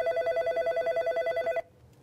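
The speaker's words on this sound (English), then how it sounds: "The phone's usually quite busy." An office telephone rings in a rapid, pulsing electronic trill that repeats steadily for about a second and a half, then cuts off, leaving quiet room tone.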